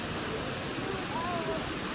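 Ravana Waterfall in Sri Lanka makes a constant broadband roar of rushing, falling water. The noise is steady and even from start to finish, with faint thin tones drifting in the background.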